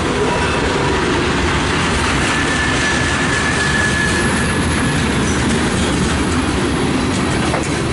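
A CSX mixed freight train, Q372-27, rolls past eastbound on track 3, a loud continuous rumble of wheels and rail clatter with faint squeal, no voices.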